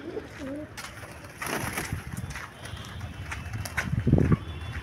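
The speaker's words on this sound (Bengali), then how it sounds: "এই পায়রা দুটোকে আমি এখন আস্তে করে ছেড়ে দেবো, উড়িয়ে দেবো ওদেরকে।" Two pigeons, Kolkata Giribaz birds, are set loose outdoors; soft cooing and a flurry of wing flaps come through near and moderate, with brief busy rustling toward the end.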